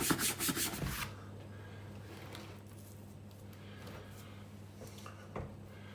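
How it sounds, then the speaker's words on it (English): Rough rubbing and wiping strokes clear plastic swarf from a freshly drilled Givi motorcycle topbox while a backrest pad is being fitted, loud and busy for the first second, then a low steady hum with faint occasional scrapes and one brief knock near the end. "let's get all the plastic swarf off."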